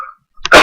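A single sharp cough bursts out close by after a brief quiet, loud and abrupt.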